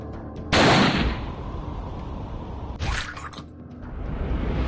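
Two loud, sharp gunshots crack out in the Range of the Dead video game, the first booming with a long tail and the second following about two seconds later, with background game ambience between them.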